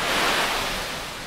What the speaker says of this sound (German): Der Wellengang ist zurzeit so stark, dass wir eigentlich gar nicht ins Wasser können.